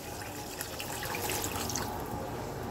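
Water pours steadily into a pan for a duck egg curry broth, a continuous soft splashing and trickling heard close and alone.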